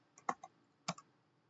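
A few quiet clicks of keys on a computer keyboard as a short terminal command is typed, a quick cluster of taps followed by a pause and a final pair of strokes.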